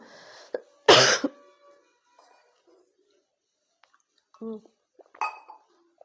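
One loud, harsh cough stands out, followed by brief clinks and a couple of short vocal sounds, with quiet gaps in between.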